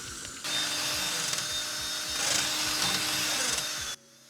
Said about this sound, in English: Gotta get my drill.